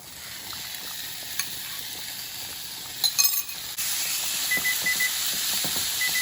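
Beef being stir-fried in a pan for Korean japchae sweet potato noodles, a steady close sizzle and hiss that swells louder midway, with a few clinks and scrapes of a utensil stirring.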